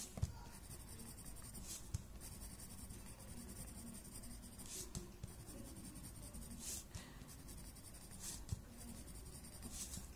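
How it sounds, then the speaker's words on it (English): Graphite pencil pressed hard against paper, laying down thick shading strokes in a steady scratchy rhythm, close and quiet with no talk. "I'm going pretty thick, pressing my pencil pretty hard here."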